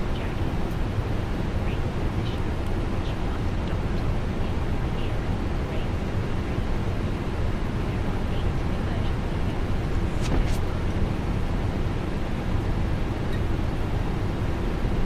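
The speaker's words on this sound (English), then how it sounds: "Cockpit to ground. We have a good engine start." A Fenix Airbus A321 engine runs steadily in a flight simulator as a continuous, loud broadband roar and rumble that holds level throughout.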